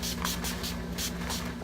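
Short bursts of makeup setting spray hiss repeatedly at close range in quick succession, over a low steady hum.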